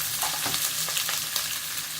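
Onions and garlic frying in a pan for chicken, shrimp and vegetable turnovers, a steady bright sizzle with crackling pops and occasional stirring scrapes, close and continuous with no voices.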